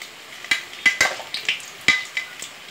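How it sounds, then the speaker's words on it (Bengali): Vegetarian fritters fry in oil beneath sharp clinks and taps of a utensil against the pan, a dozen or so scattered knocks over a faint, steady sizzle. "নিরামিষ তেলের বড়া করছি"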